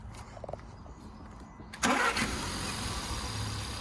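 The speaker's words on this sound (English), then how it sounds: "put it in park and fire it up" A car engine is started after the car is put in park: quiet background hum, then a sudden crank and catch as the engine fires and settles into a steady, close idle.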